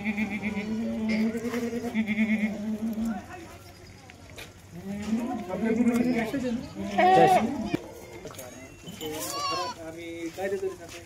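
Kathiawadi goats bleat repeatedly at a wholesale goat seller's farm, loud and close, with several wavering calls spread through the clip while someone talks over and between them.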